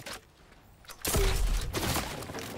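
Gunfire in a Fortnite firefight, a sudden loud burst of shots that swells up after a quiet start and keeps going as a dense, ragged volley to the end.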